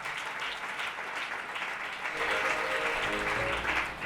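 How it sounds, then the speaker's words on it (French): A church congregation applauds the Lord, a steady, dense wash of clapping that swells slightly louder partway through, with a few faint voices mixed into the crowd noise. "Acclame encore le Seigneur pour cela"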